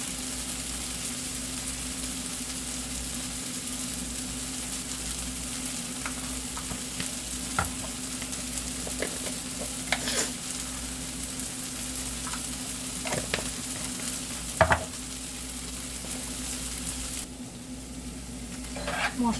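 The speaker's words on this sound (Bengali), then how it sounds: "ঘুগনির জন্য তেল গরম হয়ে গেছে। তেলে ফোড়ন দেব হচ্ছে শুকনো লঙ্কা," Whole dried red chillies, cumin seeds and bay leaf sizzle in hot oil for ghugni, a steady crackling fry with occasional stirring clinks, close and continuous.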